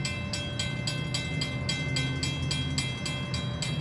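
A Norfolk Southern grain train rolls loud and close past a level crossing, its wheels clicking in a steady fast rhythm over the rail joints beneath a constant rumbling roar.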